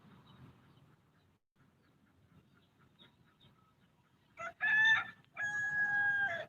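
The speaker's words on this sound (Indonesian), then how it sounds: "ada suara ayam berkokok" A rooster crows loudly and close by in two long drawn-out calls after a quiet stretch of faint background noise, in a village at Mount Dempo.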